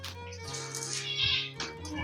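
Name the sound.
cat meowing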